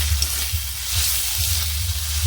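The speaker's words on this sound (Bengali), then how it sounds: "দেখুন, এভাবে কষিয়ে নিচ্ছি।" Turmeric, chili powder and Kashmiri chili powder sautéing in a hot pan for a sour fish curry, giving a steady close hiss of sizzling throughout with a low hum underneath.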